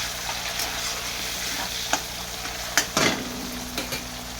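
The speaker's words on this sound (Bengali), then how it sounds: "আমি পেঁয়াজ কুচি আর টমেটো কুচিটা একসাথে দিয়ে দেবো দেখুন পেঁয়াজ আর টমেটোকে একসাথে তেলেতে ভেজে নেবো" Chopped onion and tomato frying together in hot oil in a home kitchen, a steady close sizzle with a few sharp stirring scrapes and clinks of a utensil against the pan, no voices.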